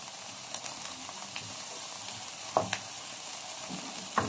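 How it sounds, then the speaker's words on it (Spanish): Garlic sautés in a pan alongside onion that has turned translucent, for a stuffed Christmas turkey. A continuous close sizzle carries light stirring clicks, and no one speaks. "Acá se vaya sofriendo."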